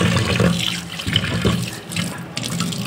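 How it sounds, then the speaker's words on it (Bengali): Prawns being rinsed under a running tap at a kitchen sink, water splashing and gurgling steadily with hands moving through it, close by and without speech. "এই দেখো মাছগুলো ধুয়ে নেব এবার।"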